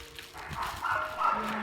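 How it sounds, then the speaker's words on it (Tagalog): Dogs bark and yip somewhere outside a home office, faint and distant, in a short run of muffled calls over room noise. "nadidistract kayo guys sa ingay ng mga aso"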